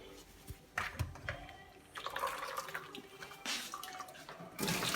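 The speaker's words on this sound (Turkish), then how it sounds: "Bunları şimdi tekrar süzgece alıyorum ve soğuk su e, dökeceğim üzerine." Cold water splashes unevenly over boiled dried vegetables sitting in a colander, with close, faint pouring bursts and drips coming and going.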